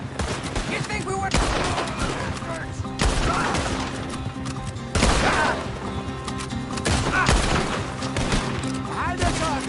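Gunfire crackles through a Red Dead Redemption 2 shootout in sharp repeated volleys, loud and near, with clusters of shots roughly every two seconds over a busy background.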